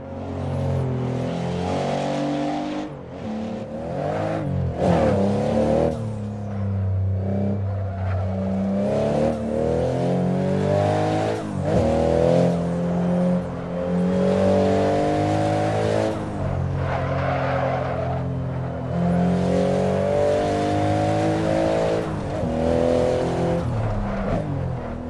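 A Ferrari SF90 with the Assetto Fiorano package racing in Assetto Corsa, its engine loud and sustained, rising and falling through repeated gear changes, with no talking.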